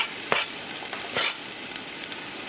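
Curry leaves, hot peppers and pimento peppers sizzle steadily in a hot pan, a close, bright frying hiss with a few louder crackling bursts as they are stirred.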